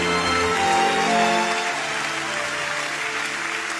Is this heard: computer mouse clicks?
no